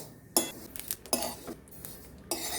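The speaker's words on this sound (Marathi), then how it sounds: "आता आपण हे तीळ भाजून घेऊया।" Sesame seeds dry-roasting in a pan, heard as scattered metallic scrapes and clinks of a spoon against the pan in short bursts over faint background, near and fairly quiet.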